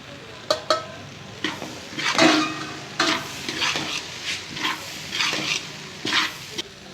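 Okra sautéed in a pan with chili and turmeric powder, sizzling softly while a spoon stirs and scrapes in irregular bursts, with a couple of sharp clinks at the start.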